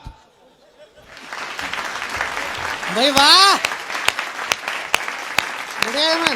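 Audience applause at a Hindi comic poetry gathering swells after a quiet start and holds steady as a broad clapping wash, with a voice exclaiming over it.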